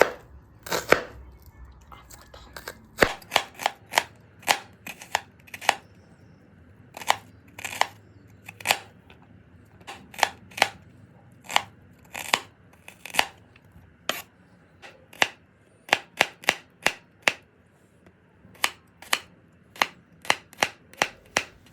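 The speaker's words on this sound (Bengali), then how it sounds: "এবার পেঁয়াজ আর রসুনগুলোকে আমি ছোট ছোট করে কেটে নেব" Two onions and three small garlic cloves being chopped finely on a board, a crisp rapid series of close knife strikes in uneven bursts with short pauses between them and no talking.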